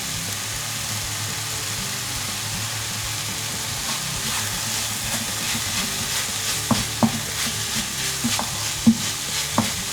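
Softened vegetables and tempeh sizzle steadily in a frying pan, with a constant crackle and a few sharp clicks of a utensil stirring toward the end.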